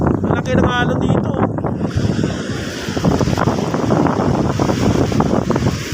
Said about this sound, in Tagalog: Malaki ng alon dito.